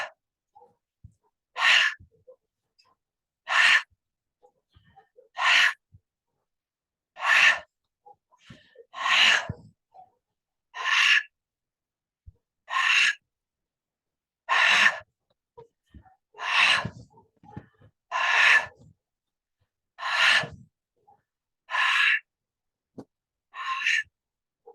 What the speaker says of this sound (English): And this is an out breath through the mouth.